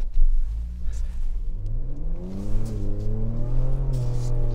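A 2022 Ford Bronco Raptor climbs a snowy, icy test hill, its engine revving hard and rising in pitch as the tires spin on the snow, loud and close.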